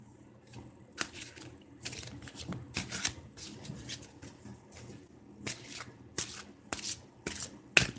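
Oracle cards are shuffled and drawn by hand, irregular bursts of papery riffling and soft slaps, close and fairly clear, with quiet pauses between them.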